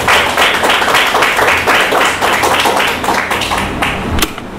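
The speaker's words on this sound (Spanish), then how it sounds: "Y un aplauso para él." An audience at a university event claps steadily for the rector, a dense patter of many hands that holds for several seconds before thinning out, with a few louder individual claps near the end.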